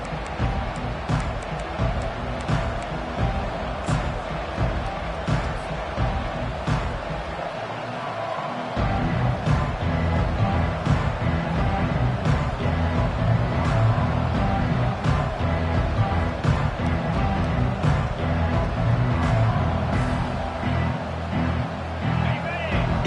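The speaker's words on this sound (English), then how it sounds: "this crowd is fired up. Listen to this noise here." A large crowd roars continuously in a big open-air football stadium during a Florida vs. Oregon game, a loud sustained wash of cheering with a commentator talking over it.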